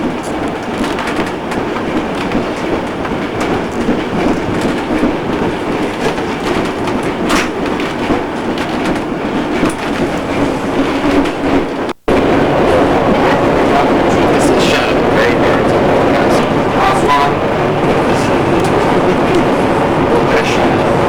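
Steady rumble of a train rolling along rails beside the Nile in Egypt, with a continuous clatter throughout and a brief dropout midway before the noise resumes.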